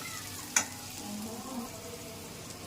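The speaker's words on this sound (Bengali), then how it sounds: "এরকম দিয়ে লবণ দিয়ে ভাজা করলে পেঁয়াজটা তাড়াতাড়ি ভাজা হয়ে যায়" Sliced potatoes and onions sizzle steadily in a pan with salt, a soft continuous frying hiss close by, broken once by a sharp clink of a utensil against the pan.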